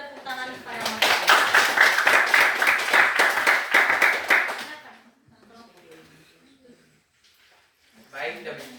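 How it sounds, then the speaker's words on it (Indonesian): Classroom applause breaks out after a student presentation, with dense rapid clapping from many hands for about five seconds, then fading into quiet murmuring and a brief second burst of clapping near the end. "mari kita beri tepuk tangan kepada materi"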